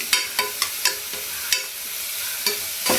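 Sautéing in a frying pan with salt, a run of quick scraping stirs and light sizzling close by, the strokes coming irregularly over a steady hiss.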